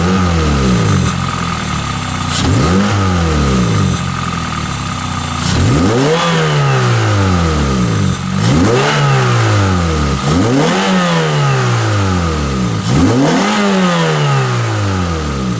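A Pontiac Vibe GT with a 2ZZ-GE engine and modified exhaust revving hard, about six loud sweeping climbs and falls that rise to a high wail and drop back toward idle, close and continuous with no talk.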